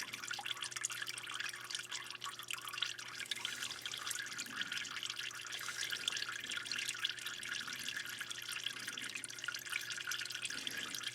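Transmission fluid from a 2019 Kia Stinger's standpipe tube drips steadily into a pan, a soft continuous trickle with faint patters, close by and alone under a low hum.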